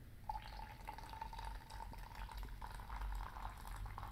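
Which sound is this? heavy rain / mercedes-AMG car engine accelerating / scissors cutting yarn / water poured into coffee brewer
water poured into coffee brewer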